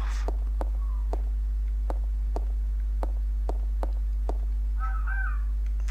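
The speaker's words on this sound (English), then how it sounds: "I can hear crows." Crows in the Resident Evil Zero game caw in a series of sharp, evenly spaced calls over a loud constant low hum, with a brief warbling sound near the end.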